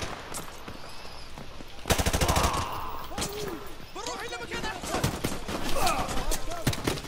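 Gunfire in a video game: rapid automatic bursts rattle loud and close, then sporadic shots and clatter follow. A player talks and reacts excitedly over the top.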